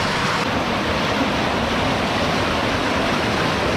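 Strong current of water rushing steadily during night fishing, a loud, continuous broadband wash like surf or a fast stream, close and unbroken with no voices.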